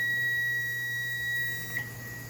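A Verteq GFM CMP 200M machine sounds an error alarm: one steady, high electronic beep held for over a second and a half against a low mechanical hum, followed by a brief softer chirp.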